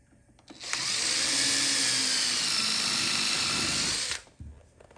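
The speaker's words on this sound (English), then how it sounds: "Then I'll pre-drill and install 6D finish nails" A drill pre-drills hardwood flooring for finish nails with one loud, steady high-pitched whir lasting about three seconds, close up, starting and stopping sharply.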